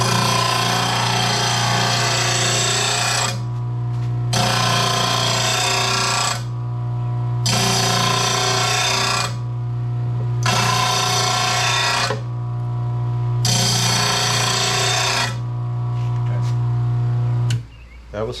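An RBG 712 sharpener grinding a lawn mower blade in five loud, harsh passes of about two seconds each, separated by short quieter gaps, over a steady motor hum.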